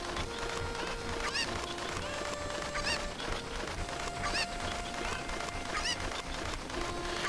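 Cucco chickens in The Legend of Zelda: Ocarina of Time make repeated honking clucks at a steady rhythm over a dense, busy game background, with no talking.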